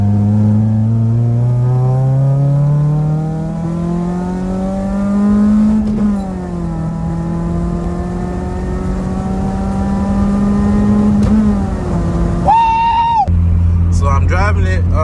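A Honda Prelude's engine hums and rises through the revs as the car drives after a new clutch slave cylinder install, steady in-cabin drone shifting pitch with gear changes, ending with a brief squeal and clatter.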